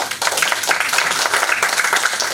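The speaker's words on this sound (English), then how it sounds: "Please join me in welcoming Professor Andrew Briggs with a round of applause." Applause from an academic lecture audience welcoming an Oxford professor at ICTP: a short, continuous wash of many hands clapping, steady and fairly loud throughout.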